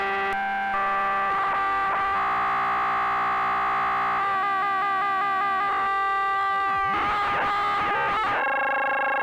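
Buzzy square-wave tones from a Buchla 259e synthesizer module with a hollow character shift and warble in pitch, sustained and loud with no voices.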